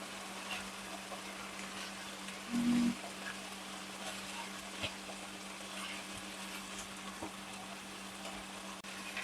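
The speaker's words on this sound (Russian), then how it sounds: "Мясо протушилось немножко, добавляем лучок. И давайте перемешаем все." Stewed meat with onions frying in a pan, a steady soft sizzle with stirring, close and fairly quiet, with one short louder scrape or thump partway through.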